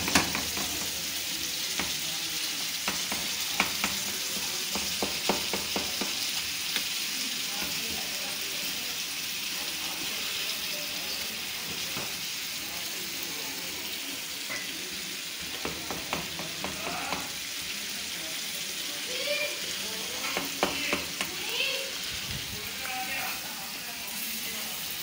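Tomatoes sizzling and frying in a karahi for charsi karahi, mashed and stirred with scattered scraping clicks of a utensil over a steady broadband hiss.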